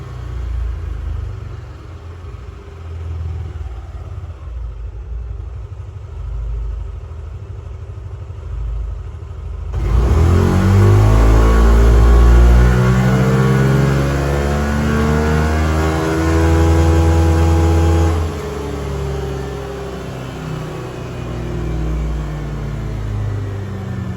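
A car engine on a dynamometer starts from standstill, idling low before surging into a loud, sustained rev that climbs and holds, then eases back, with a rumbling roar close by.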